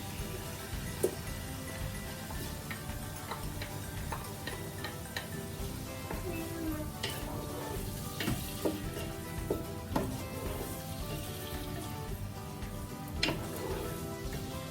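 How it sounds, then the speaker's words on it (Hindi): Tomatoes and ginger frying in a pan while peas pulao is cooked, giving a steady close sizzle with scattered light ticks and stirring clinks throughout, and no talk. "ये देखें ये टमाटर और अदरक मैं ऐड कर रही हूँ।"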